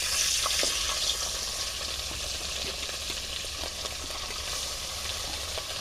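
Fish frying in mustard oil over a village earthen stove, a steady, close sizzling hiss with scattered small pops and crackles running throughout, no voices.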